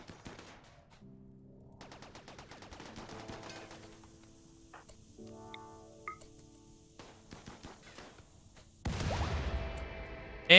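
Bursts of gunfire from the RimWorld video game, rapid machine-gun rattles and single shots spread across several seconds, ending in a louder, dense burst of firing, with no talk over it.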